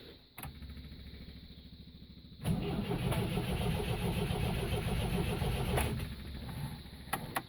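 A car engine cranks with a fast, even starter whir, then catches and runs roughly for a few seconds before dying back to cranking. Short, sharp clicks are heard at the end, and nobody talks.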